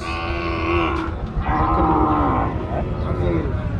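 Cattle low in long, drawn-out moos at a busy Rajshahi cattle market, one loud bellow close by and others overlapping, with market chatter underneath.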